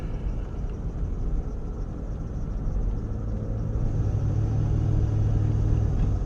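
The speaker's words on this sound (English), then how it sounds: "When I accelerate, it gets louder. It has to be my alternator, bearings" Car engine noise with a steady low rumble that grows louder and denser as the vehicle accelerates, attributed to worn alternator bearings; no voices.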